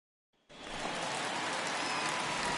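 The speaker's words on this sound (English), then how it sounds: "It's raining cats and dogs out there." Steady rain pours over the ballpark in the baseball video game MLB The Show 21, a dense hiss that starts abruptly after a brief lead-in and holds loud and even without talk.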